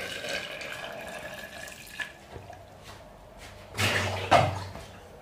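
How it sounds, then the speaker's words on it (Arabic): Water is poured into pizza dough in a home kitchen: quiet background clatter, then a brief splashing pour lasting under a second near the end, with no talking. "دابا انا غادي ندير شويه ديال الماء"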